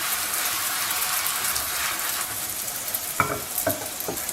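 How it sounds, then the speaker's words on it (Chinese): Fried dough cake sizzling in a pan: a steady close crackle of hot oil with a few sharp clicks near the end, with no talk. "烙至底部变色，我们给它翻面，同样烙个几十秒"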